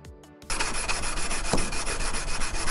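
A knife blade is hand-sanded lengthwise for a drawn-out finish near the ricasso, giving a continuous, close, abrasive rubbing that starts abruptly after a brief lead-in and keeps an even, scratchy rhythm throughout.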